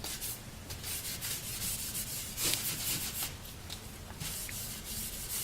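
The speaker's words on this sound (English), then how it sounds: "I'll put it on kind of thick, and I'll just wipe off the excess" A cloth rubbing excess finish off a .22 rifle stock, a steady close rasping swish that continues without pause, alone with no talk.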